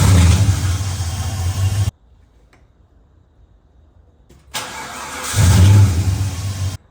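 A Holden 5L V8 engine runs rough with a misfire: a loud, close idle cuts out to near-silence, then cranks and fires back up with a lumpy revving rumble.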